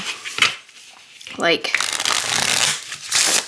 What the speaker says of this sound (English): I can very easily riffle shuffle it